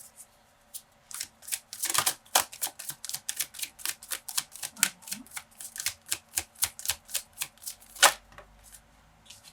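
A deck of tarot cards being shuffled and cards drawn, with rapid rhythmic riffling flicks and snaps, close and crisp, with no talking.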